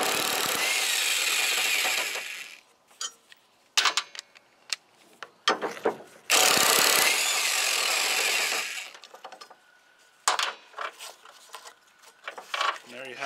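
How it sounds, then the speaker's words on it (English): Impact wrench on a 15 mm socket loosening the blade bolt on a John Deere L-Series mower deck, delivering two long loud bursts of about two and six seconds separated by clanks and handling noises. "I believe this is a 15 millimeter socket for this particular application. And I like to use an impact."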